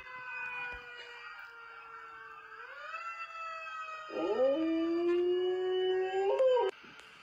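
Two dogs howl and whine in long, wavering, siren-like tones that slide in pitch, one voice joining and rising louder toward the end, fairly close with no talking.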